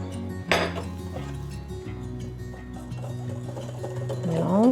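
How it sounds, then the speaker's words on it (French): A utensil scrapes and clinks against a bowl while mixing carrot cake dry ingredients of flour, spices, salt, baking powder and baking soda, with irregular close knocks and stirring scrapes, one sharp clatter near the start. "Alors je vais mélanger tous les ingrédients secs"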